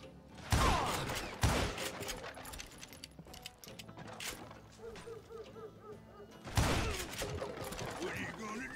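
Gunshots in the western shooter Call of Juarez: Gunslinger, two loud sharp reports about a second apart, then a quieter stretch of mechanical clicks and speech, and another heavy blast near the end.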